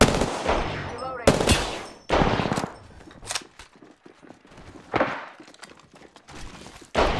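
Bursts of automatic gunfire in Apex Legends, loud and close, arriving in several separate volleys with quieter gaps between them.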